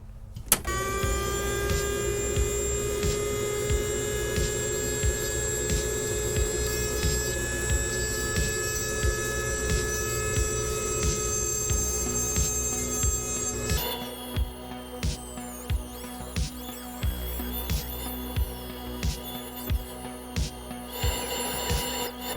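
A lathe without a spindle lock turns and cuts pierced wooden mushroom pieces, giving a steady whirring motor drone with a high tonal whine, then a switch to a quieter hum with regular ticking strikes.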